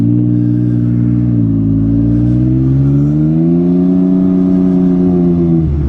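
A loud engine exhaust on a small toy vehicle with a reverse gear holds a deep, throaty idle. Around the midpoint it revs upward, the pitch climbing and wavering, then settles again, close to the microphone.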